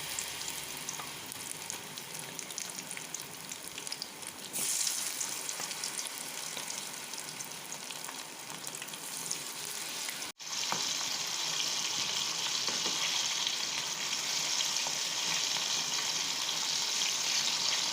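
Apple slices dipped in batter fry in hot oil, a steady close sizzle with crackling that runs unbroken, briefly cutting out near the middle before resuming slightly brighter and louder.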